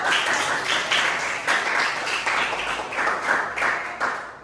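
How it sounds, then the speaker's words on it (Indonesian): A classroom of students claps for a classmate, a moderately loud burst of group clapping with a loose pulsing rhythm, continuing steadily for a few seconds without voices. "boleh tepuk tangan untuk Tio"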